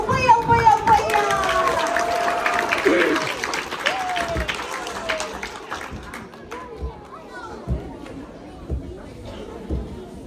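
Crowd applause at a Kiribati youth celebration fading out beneath chatter and a whistle-like tone, with voices of adults and children talking over scattered claps.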